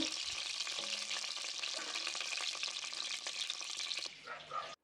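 Whole spices (cloves, cardamom and cinnamon) frying in a pan give a loud, steady, close sizzle with faint stirring rustles, easing slightly near the end before cutting off.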